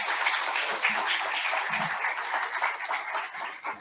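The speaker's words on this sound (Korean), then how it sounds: "우리 목사님 나오실 때 환영하는 의미로 우리 큰 박수 쳐드리도록 하겠습니다" A church congregation applauds to welcome the pastor at a Sunday worship service at Immanuel Church in the Philippines, with a steady, dense wash of many hands clapping throughout and no speech over it.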